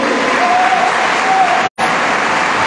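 Steady, dense clapping from a large crowd at a Catholic Mass, loud and continuous, with a brief cut of silence near the end before it resumes.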